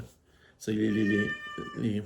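A cat meows loudly and close by in a long, drawn-out, wailing cry, then gives a shorter second meow, over a quiet background.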